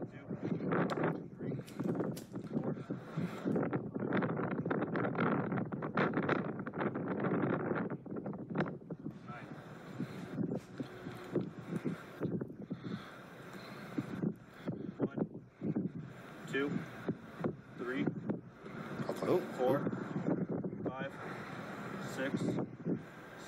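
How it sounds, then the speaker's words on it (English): Strong wind blows outdoors, a loud, steady, gusty rumble buffeting the microphone for the whole stretch, with voices talking intermittently underneath. "It's super windy."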